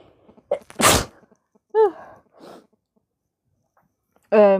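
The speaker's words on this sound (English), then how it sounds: "I'm going to sneeze." A single sharp, explosive sneeze stands out close up, surrounded by a few short breaths and brief vocal noises.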